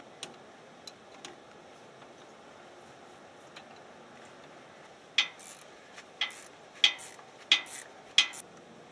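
Metal tools clicking and ticking against the front hydraulic pump while it is being taken off a Ferguson backhoe, faint scattered taps, then five sharper metallic clinks near the end.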